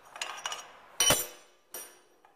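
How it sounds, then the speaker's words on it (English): A power hammer forges down the arm of a blacksmith's tong to set its offset: a few lighter metallic blows, then one loud ringing strike and a final sharper hit, close by. "So as we hammer that down,"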